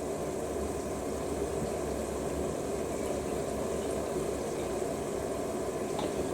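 A Zanussi TJS1397W Jetsystem top-loading washing machine runs with a steady churning rumble and watery hiss as its drum tumbles quickly, continuous and fairly close, with no voices.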